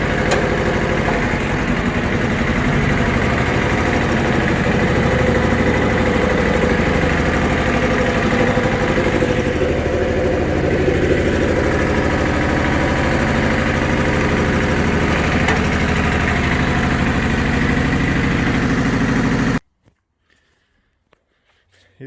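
A Yanmar YM-1500 mini tractor's engine runs steadily in reverse gear, a loud continuous diesel drone with even vibration that cuts off abruptly near the end, leaving near silence.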